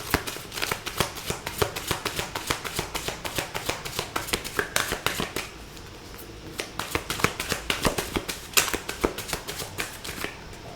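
Tarot cards shuffled by hand in a rapid, steady run of close, crisp riffling taps that continue for about ten seconds, with a slight pause around the middle.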